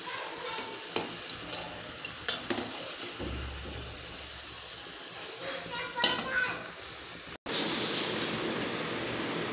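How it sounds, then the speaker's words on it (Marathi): Karanji, sweet filled dumplings, are fried in hot oil with a steady sizzle throughout, broken by a few clinks and stirring knocks, while household noise and faint voices carry in the background. "जसे मोदक तळून घेतले होते तशाच करंज्या पण तळून घ्यायच्या।"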